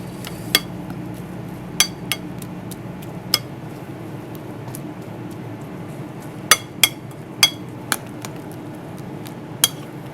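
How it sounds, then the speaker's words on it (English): A thick raw-food soup being stirred in a pot, with scattered light clinks of a utensil against the pot's side over a low, steady background hum. "once again, stir up the soup"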